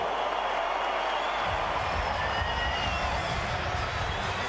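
Arena crowd in Tampa applauding and cheering boxer Amanda Serrano after her win, a dense, steady wash of clapping and roaring voices throughout.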